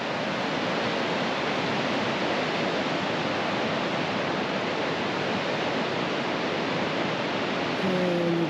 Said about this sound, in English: there is rushing water roaring deep underneath the bridge overlook